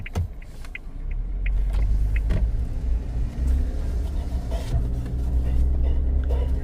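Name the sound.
Suzuki Jimny engine auto-starting after foot leaves brake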